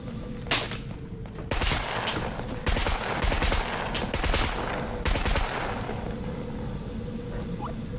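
Bursts of AK rifle fire in the survival game SCUM, several loud automatic volleys with short gaps between them, close and sharp over a low ambient bed.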